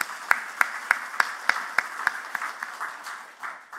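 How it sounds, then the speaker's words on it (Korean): A church congregation during a Sunday worship service claps in a steady rhythm, with sharp, evenly spaced claps standing out over softer clapping that loosens and fades toward the end. "하나님께 감사와 영광의 박수를 한번 올려드리도록 하겠습니다"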